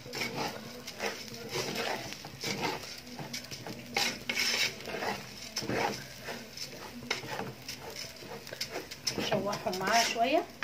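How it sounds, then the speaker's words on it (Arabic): Rice and vermicelli being stirred with salt, pepper and cumin in a pot, with repeated scraping and clinking strokes of a utensil against the pot and a faint sizzle, while a person talks over it. "وهنقلبهم مع بعض كويس"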